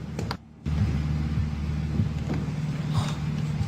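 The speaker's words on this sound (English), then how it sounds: "Got trucks going by outside." Trucks driving by outside a building, heard from indoors as a low, steady rumbling engine drone after a brief quiet dip, with faint knocks and rustles over it.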